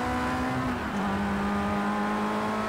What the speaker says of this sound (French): on maltraite un petit peu le moteur